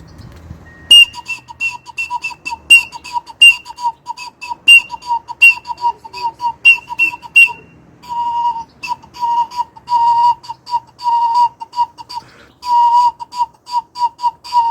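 A homemade noisemaker whistle sounds in loud, shrill bursts, some short and some held, each carrying one main tone plus a piercing overtone, with no voices.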